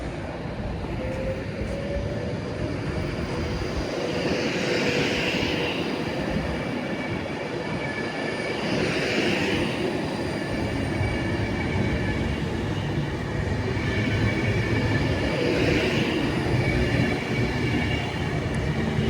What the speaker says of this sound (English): see 1343, Advance West Coast service from Manchester Piccadilly to London Euston, led by